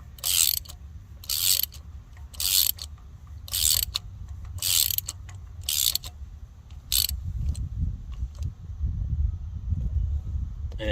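A ratchet wrench clicks in repeated bursts while a spark plug is tightened into a 2007-2010 Lexus ES350 engine, the rapid ratcheting stopping and starting close to the microphone, followed by low handling noise.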